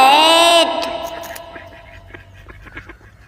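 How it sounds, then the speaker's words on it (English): A single drawn-out, nasal quack-like call opens loud and close, followed by softer scattered clatter, heard against a children's alphabet song. "Quack, quack, quack, quack, quack."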